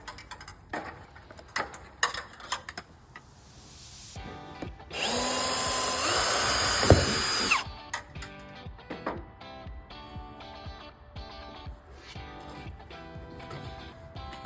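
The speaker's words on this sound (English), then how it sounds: "So I'm gonna drill a small hole" A power drill whirs loudly in one steady burst of about three seconds, drilling a small hole for a Ring camera wire, surrounded by quieter ticking and handling noises.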